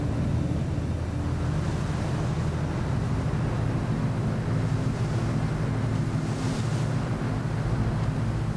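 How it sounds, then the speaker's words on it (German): A newly built tugboat steams through the North Sea in force 6 to 7 wind with a following sea, giving a continuous low engine drone under rushing wind and wave wash. "Bei Windstärke 6 bis 7, in Böen auch 8, dampft der Schlepperneubau bei achterlichem Wind behutsam durch die Nordsee"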